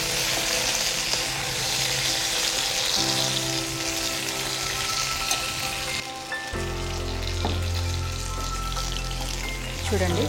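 Drumstick fry being stirred in a pan, a dense continuous sizzle with scraping and clattering of a spatula, loud and close, with a brief change in tone partway through.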